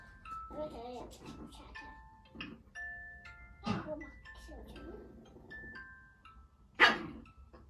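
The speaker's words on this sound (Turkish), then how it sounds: "Bizim köpeklerimiz gene hav hav hav." A dog barks a couple of times, sharp and fairly close, between stretches of people talking, with a few faint electronic tones.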